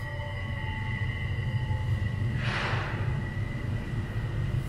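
A train passes close by in the morning, a steady, loud, low rumble with sustained tonal hums and a brief hissing swell near the middle.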